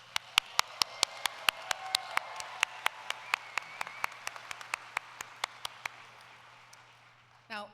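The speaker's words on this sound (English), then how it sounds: "That deserves more than a polite clap. Go ahead, give yourselves the recognition you deserve." Applause from a convention audience, broad and steady through the middle with sharp isolated claps standing out, fading toward the end before a brief burst of other sound; faint voices underneath.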